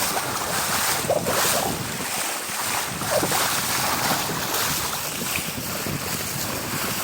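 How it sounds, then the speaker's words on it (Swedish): Strong wind buffets the microphone on a sailing boat moving fast, with a steady broadband rush of wind and water spray over the hull and no voices. "Nu kommer vinden."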